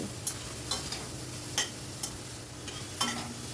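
Softened vegetables being stirred in a frying pan, a faint background sizzle broken by several evenly spaced spatula scrapes and taps, close by and without any talking.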